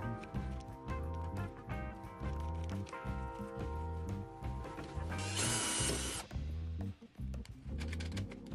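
A drill whirs in bursts with ratcheting mechanical clicks while drilling a welding mask, followed by a brief high hiss, close and steady throughout.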